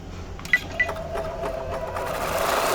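A sewing machine with a magnetic embroidery hoop stitches custom block quilting in a steady, close mechanical hum, with a couple of sharp clicks at the start.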